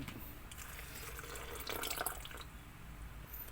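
Water splashes and trickles into a blender in a short, steady pour that swells briefly near the middle, with no one talking.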